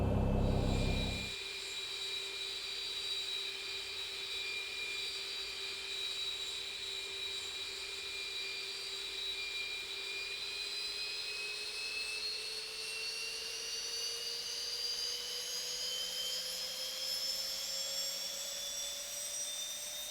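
Engine number 2 of a Boeing 737 spooling up during startup in the X-Plane 11 flight simulator, a steady rising turbine whine that climbs in pitch over twenty seconds, smooth and continuous, after a short burst of noise at the start.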